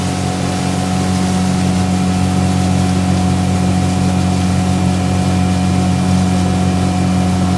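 Outboard engine on a pontoon boat running at about 5,700 RPM and roughly 19 mph after performance tuning. It gives a loud, constant droning hum with steady low harmonics and a wash of wind and water noise throughout.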